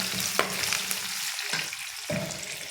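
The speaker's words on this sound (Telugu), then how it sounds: "లైట్గా వేగినాయి. పచ్చిమిరపకాయలు వేసినాయి ఇప్పుడు." Green chillies fry in hot oil in a pan, giving a loud, steady sizzle close by with a few stirring scrapes.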